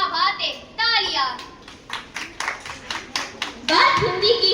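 Children at a school morning assembly clap in a burst of scattered handclaps, with young voices talking over and around the rhythmic claps.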